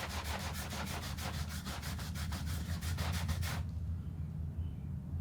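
Rhythmic back-and-forth scrubbing strokes on a dirty surface, about fifteen quick rubbing passes that stop abruptly near the end, leaving a low steady background hum.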